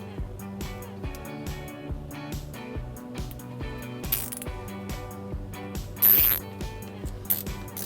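A zip tie is ratcheted tight around a bumper support while a trailer wiring harness is installed on a 2009 Toyota Highlander. Quick rhythmic plastic clicks repeat steadily over a bed of music, with a few sharper snaps.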